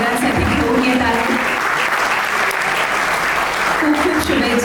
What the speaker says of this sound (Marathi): स्पेशली या सिनेमाच्या निर्मात्या, लेखिका, दिग्दर्शिका मयुरा प्रधानजी यांच्यासाठी जोरदार टाळ्या